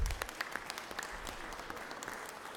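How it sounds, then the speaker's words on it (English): A brief, light round of clapping in the Georgia Senate chamber for a youth council standing in the balcony, with scattered individual claps, fairly faint and somewhat distant. "we could give them a quick round of applause"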